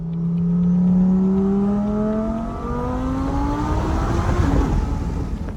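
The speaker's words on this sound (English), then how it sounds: "they hear those turbos whining" A BoostLogic twin-turbo Gen II Audi R8 sweeping past with a loud engine roar and rising turbo whistle, the pitch gliding as it accelerates, then breaking into rough, gritty rumble as it moves away.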